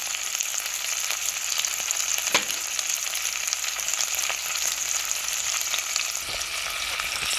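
Beef chunks searing in a hot pan for stew give a steady, fairly loud sizzling crackle that runs unbroken, with a couple of sharp utensil taps and no speech.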